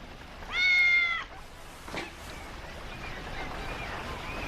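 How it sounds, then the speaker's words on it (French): A cat gives one clear, drawn-out meow close by, followed by quieter ambient background noise with no talking. "T'es qu'un chat."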